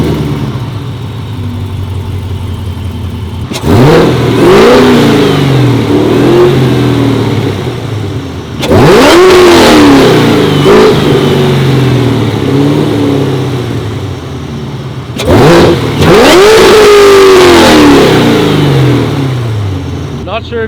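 A Corvette C7 Z06 with Kooks catless long-tube headers and AWE exhaust idles loudly, then rips through three sharp, high revs spaced several seconds apart, each rising and falling back to a rumbling idle.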